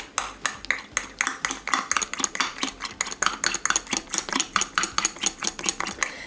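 Gelatin being stirred into cream with a spoon in a bowl, a steady fast rhythm of light clinking and scraping strokes, close and fairly loud, with no voices.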